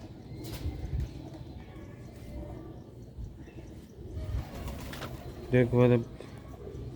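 Sialkoti rooftop-breed pigeons coo on a roof amid outdoor background noise. A voice speaks briefly, and a clearer, louder coo rises near the end.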